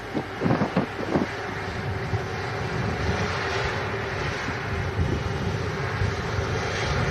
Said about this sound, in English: Airbus widebody aeroplane